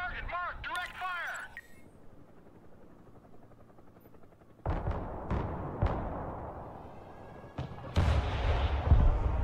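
Units in the war game Broken Arrow open direct fire, with heavy booming shots and blasts building after a brief spoken line, over a rumbling battlefield with helicopter noise.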